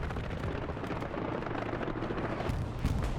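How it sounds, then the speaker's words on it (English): An aircraft strafing run in the World War II shooter Hell Let Loose during a competitive match: a sustained, rumbling barrage of rapid gunfire and heavy impacts, loud and steady, with a booming swell near the end. "Strafing run? What? Wait, what?"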